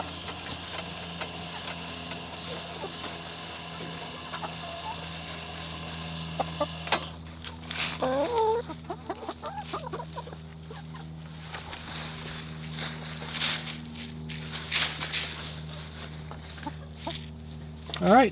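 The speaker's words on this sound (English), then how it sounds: "All right, first chicken through, great." Chickens clucking at the door of a coop fitted with an automatic door opener, with scattered close clucks and short calls starting partway through over a constant low hum, and a person speaking briefly.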